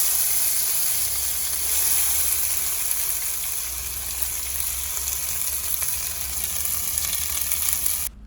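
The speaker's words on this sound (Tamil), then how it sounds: "இப்போ அரைச்சி வச்ச மசால் இதில் போட்டுக்கலாங்க." Ground masala sizzles in a pan with fennel seeds and curry leaves for a hotel-style carrot and beans vegetable kurma: a steady, loud frying hiss that runs unbroken and close, with no voices.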